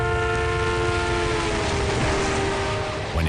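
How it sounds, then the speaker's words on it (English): A passing train sounds a long, loud, steady horn whose pitch drops slightly as it goes by, over continuous rumbling rail noise. "As a train approaches, the whistle's pitch rises."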